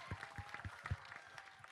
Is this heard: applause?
yes